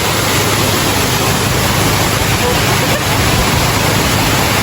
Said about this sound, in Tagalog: We're here at Golden Waterfalls.